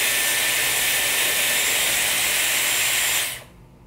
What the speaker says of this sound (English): once your hair feels dry, you're just gonna turn on the cool setting to lock in the curl.